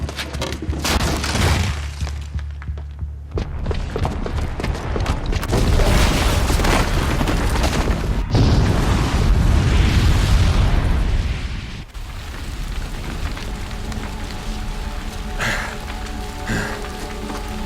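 A bomb blast in Horizon Zero Dawn unfolds as a long, loud rumbling roar with debris crashing and rain-like crackle, a sharp crack midway and heavy boom, then fading into lighter rubble and ambient noise.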